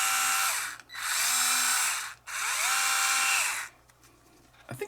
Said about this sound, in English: So this is a Works electric screwdriver.